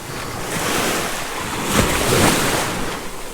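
Ocean surf on a deserted beach at Pasacao in the Philippines rolls in as a steady wash of broadband noise, swelling gently in the middle with gusts of wind against the microphone and no talking.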